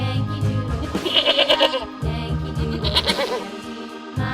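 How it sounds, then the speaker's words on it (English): Goat bleating in a farm-animal sound sequence, a few wavering bleats at moderate loudness over a background of music. "goat,"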